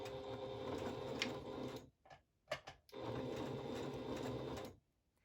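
A sewing machine stitches a fabric face mask with a close, steady mechanical whirr. It stops briefly for a few soft clicks, runs again and then falls silent.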